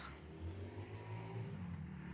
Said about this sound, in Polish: motor jedzie